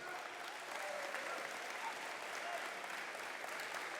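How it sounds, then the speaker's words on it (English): Loud, steady applause from a crowd, sustained clapping throughout with no pauses. "give him a big round of applause one more time"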